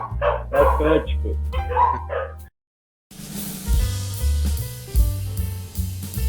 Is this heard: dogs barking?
yes